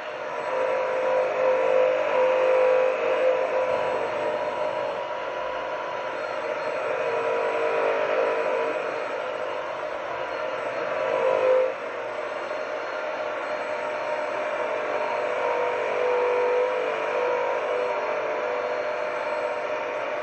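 A Bissell wet/dry vacuum cleaner runs continuously with a steady whirring roar and a brief dip midway, close and loud, with no talking.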